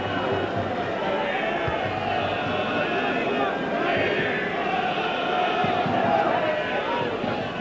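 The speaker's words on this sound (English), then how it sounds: "the cheer from the home supporters tells its own story" Home supporters cheering at a Newport Gwent Dragons versus Neath-Swansea Ospreys rugby match, a loud, continuous roar of the stadium crowd beneath a commentator's voice.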